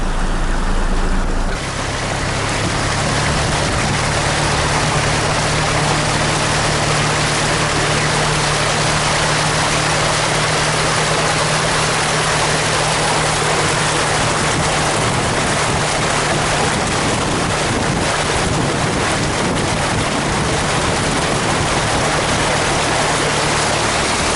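Floodwater rushes out of the backed-up Englefield Lagoon near Pingewood: a steady, loud wash of flowing water over a low hum, continuous throughout with no talking.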